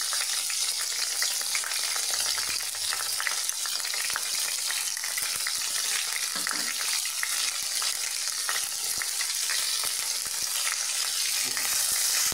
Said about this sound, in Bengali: এবার এতে নুন, হলুদ দিলাম, দিয়ে মশলাটা হালকা কষিয়ে নিলাম।